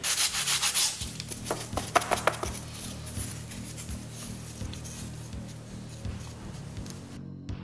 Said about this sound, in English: Just sandpaper the styrene.